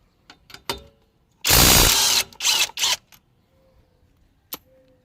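A Kobalt 24V right-angle impact wrench works lug nuts on a vehicle: a short trigger blip, then one loud sustained hammering burst followed by two quicker bursts, with brief clicks and quiet gaps between.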